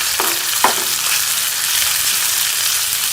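Garlic, cumin and green chillies sizzle and crackle steadily in oil in a pan, with a couple of brief clinks of a utensil near the start, close and continuous.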